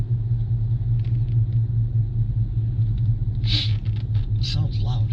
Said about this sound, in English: I think I need a new exhaust on this car.